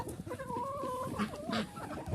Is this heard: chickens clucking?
yes